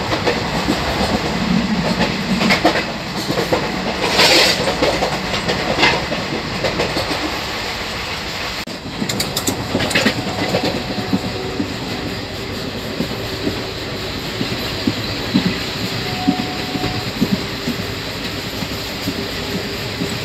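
A train pulls away from Bargarh Road railway station and keeps running, a continuous loud rumble with rhythmic clickety-clack of wheels, brief squeals and a passing tonal hum.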